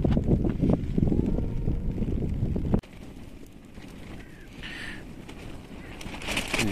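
Strong wind gusts across a frozen river during winter ice fishing on the Oskol, a loud rushing roar that drops to a steadier, quieter blowing after about three seconds.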